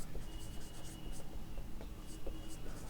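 Writing on a board during a Class 10 maths lesson, with quiet scratchy strokes tapping and rubbing in short irregular bursts, faint and close, without talk.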